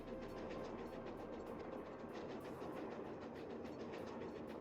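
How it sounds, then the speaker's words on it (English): A moving train in the Nancy Drew game Last Train to Blue Moon Canyon gives a faint, steady rolling rumble with a soft, regular clickety-clack, heard alone without talk. "Can't go outside until the train stops."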